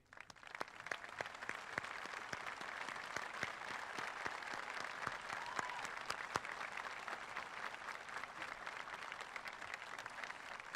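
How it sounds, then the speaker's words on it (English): Seniors in a high school commencement ceremony crowd applaud together for about ten seconds, a steady wash of many hands heard from some distance and fairly faint. "offer them a round of applause as a final tribute to their efforts"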